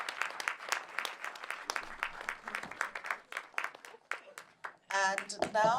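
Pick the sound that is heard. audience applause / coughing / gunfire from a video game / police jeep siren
audience applause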